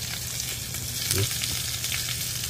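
Large prawns hit a hot pan and fry with a loud, close sizzle, a brief clatter of stirring near the middle, steady spitting throughout and no talking.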